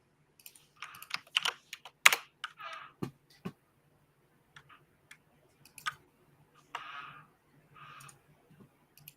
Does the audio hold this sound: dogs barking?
no